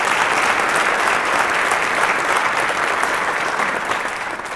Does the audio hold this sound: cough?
no